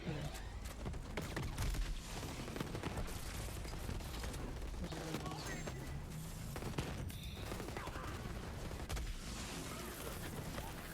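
Gunfire in Borderlands 3, a dense continuous barrage of rapid shots and impacts lasting throughout, loud and close, with occasional faint talk underneath.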